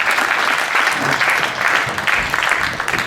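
Loud, dense applause from an audience honoring an organizing committee at a community event in Coulaines, sustained clapping that swells and dips slightly throughout without pause.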